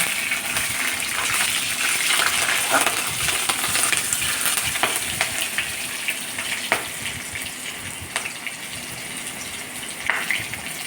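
Green chillies hit hot oil with fried tempering spices, making a loud, continuous crackling sizzle broken by sharp pops and clinks, with no voices.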